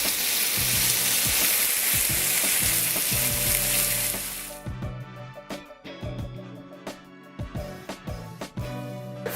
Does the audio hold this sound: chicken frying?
yes